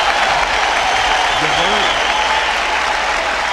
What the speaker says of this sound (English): We're going to give her a hand clap.